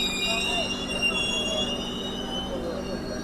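The Coromandel Express rolls along its rails with a steady, even rumble, while thin high squealing tones from the wheels hold above it through the whole stretch.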